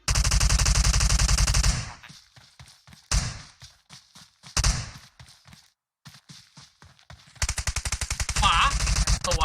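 Gunfire in PUBG Mobile, loud rapid automatic bursts at the start and end, with separate sharp single shots and short gaps of near silence between them, close and dominant.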